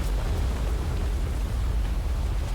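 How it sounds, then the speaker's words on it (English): Jetpack thrust in the video game Outer Wilds, a continuous broadband roaring hiss that stays steady and fairly loud throughout, with no speech. "that's the sound of my jetpack"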